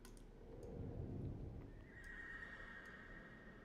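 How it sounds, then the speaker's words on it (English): A horse whinnies in the Doors: Paradox puzzle video game, a faint neigh under low rumbling ambience followed by a thin sustained tone. "I hear a fucking horse"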